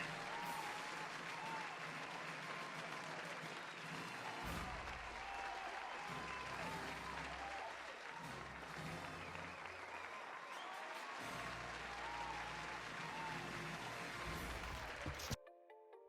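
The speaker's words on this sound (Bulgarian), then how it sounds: "моля бурни аплодисменти за" Sustained crowd applause, loud and steady for about fifteen seconds, for a Fortnite player being welcomed on stage, cutting off abruptly at the end.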